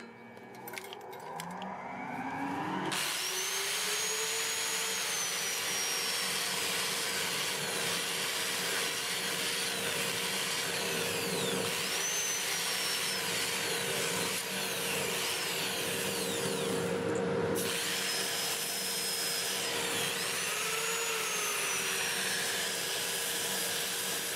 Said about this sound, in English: And I'll start my dust collector.